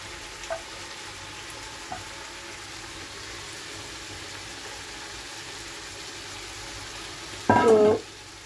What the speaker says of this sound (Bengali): আর এই দেখো মাছগুলো এখন আমি এক এক করে দিয়ে দেবো এর মধ্যে